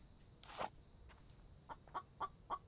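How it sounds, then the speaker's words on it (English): A chicken in the zombie survival game The Infected gives a few short, faint clucks in a steady row, set against a quiet ambient background. "There's the chicken."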